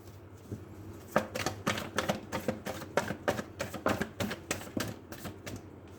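Tarot cards riffled and shuffled by hand, a rapid run of crisp flicking slaps in a steady rhythm lasting several seconds, close and clear with no talking.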